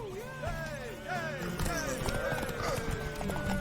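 Horse hooves clip-clop in Witcher 3, the steady clopping sitting amid game music, a whinny-like tone and shouted voices of a race, continuous and fairly close throughout.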